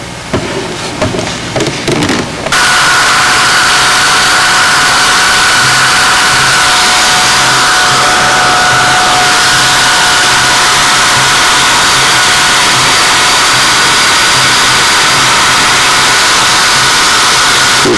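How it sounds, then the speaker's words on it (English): After a few seconds of handling noise, a hairdryer switches on to warm tape on a model aircraft fuel tank, blowing with a loud, steady, close roar that continues unbroken. "I'm going to just touch and hit this with a hairdryer"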